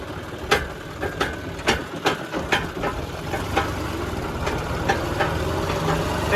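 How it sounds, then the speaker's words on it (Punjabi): A tractor engine runs at a steady rumble while lifting a heavy potato planting machine, with repeated sharp metallic clanks and ratcheting knocks from the implement, loud and close, no talking. "ਟਰੈਕਟਰ ਮੇਰੇ ਮੂਰੋਂ ਉੱਠਦਾ ਮਸ਼ੀਨ ਭਾਰੀ ਆ"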